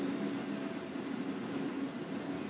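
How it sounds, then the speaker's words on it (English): A train rumbles past in the video game Whispering Willows, a steady low rolling drone with faint rail clatter that holds evenly throughout, with no talk over it. "Is this train gone yet?"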